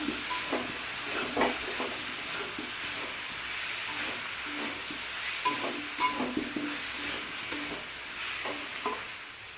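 Masoor dal khichuri with chillies being stirred in a pan, a faint steady sizzle and hiss broken by repeated soft scrapes of the spoon.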